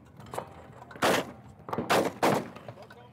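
Shotgun shots from a Stoeger M3020 and a Benelli Ethos at an outdoor range during SHOT Show 2014, three loud sharp blasts with short gaps between them over quieter background noise.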